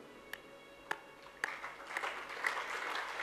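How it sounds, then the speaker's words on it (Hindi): An audience applauds, starting with a few isolated sharp claps and then swelling into dense, sustained clapping that grows louder toward the end. "तालियां"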